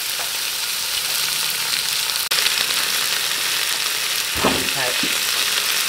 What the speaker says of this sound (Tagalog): Ihulog ko na yung karne ng baka.